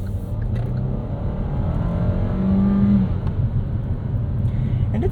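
A 2022 Kia Seltos gathers speed on the road, a steady engine drone and tire rumble that climbs gradually and holds close and fairly loud with no voices.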